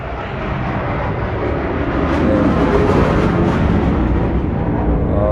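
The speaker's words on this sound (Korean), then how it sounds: "뭐 비행기가 날아가는 소리입니다." An airplane flying over a loud civil construction site, a continuous heavy roar that swells slightly louder toward the middle and stays steady to the end.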